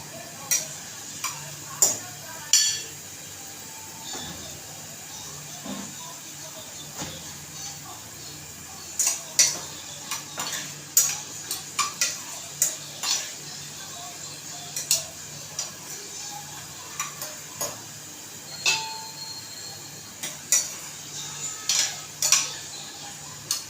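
Sandge, dried lentil dumplings, being stirred and fried in a pan, with repeated close clinks and scrapes of a spoon against metal over a faint sizzle, and someone talking intermittently.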